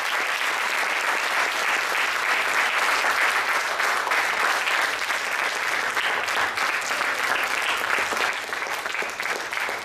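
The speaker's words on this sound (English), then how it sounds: "let's give them a big round of applause" Sustained applause from an audience at a literary festival author talk, steady and dense for the whole stretch with no letup, loud and close.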